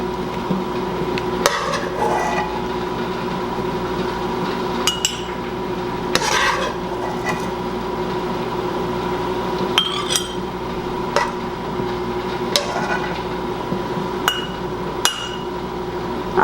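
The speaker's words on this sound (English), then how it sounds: "Now it's time to fill our jars with the onions. You want a slotted spoon for this." A slotted spoon scoops English pub-style pickled onions into glass jars, with repeated bright metallic clinks and taps at irregular intervals over a low steady background.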